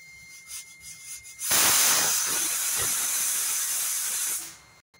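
Steam bursts from a pressure cooker cooking chicken in a loud, sustained hiss lasting about three seconds, then cuts off abruptly, with no distinct whistle tone.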